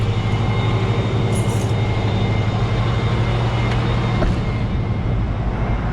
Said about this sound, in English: We'll go ahead and turn the PTO on, and then we'll throttle up just a little bit, get the hydraulics moving a little quicker.